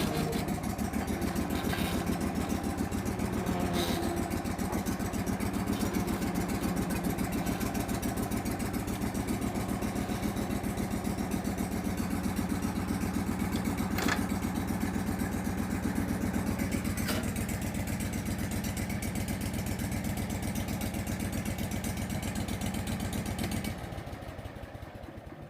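A Hurricane blower engine runs steadily after a cold start, a loud, even, throbbing idle that holds unchanged for about twenty-five seconds before dropping away at the very end.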